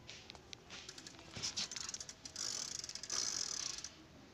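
A bicycle's rotary drive gear, built on an existing freewheel, ticks in a quick, fast ratcheting patter that swells and grows denser toward the end, close and clear with no voices.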